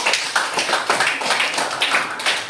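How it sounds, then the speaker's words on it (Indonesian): Elementary school students in a classroom clap for a group that has just presented, quick uneven bursts of small hands clapping close by, continuous for a couple of seconds. "Beri tepuk tangan dulu kelompok 1"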